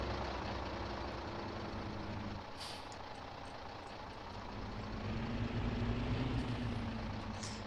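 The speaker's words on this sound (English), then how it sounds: "this thing's straight piped. This thing's got a little bit of a deep exhaust tone" A straight-piped truck engine with a deep exhaust tone rumbles steadily and close by while turning around on a farm, its low drone continuous throughout with a brief hissing burst partway through and another near the end.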